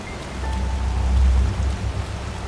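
Steady rain pours down in the fantasy world of Enderal, a Skyrim mod, a dense continuous hiss with a low rumble underneath, swelling slightly midway and never letting up.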